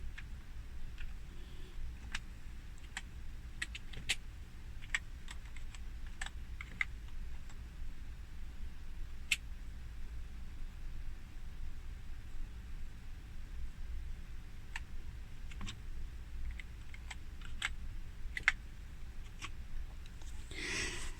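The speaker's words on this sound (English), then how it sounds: "if I just use the keyboard on here" Scattered clicky keystrokes on a ZX Spectrum 128 clone keyboard tapping away at an uneven pace over a steady low hum, close and fairly quiet.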